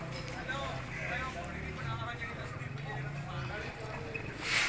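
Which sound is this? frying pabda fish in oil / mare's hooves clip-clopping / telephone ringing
mare's hooves clip-clopping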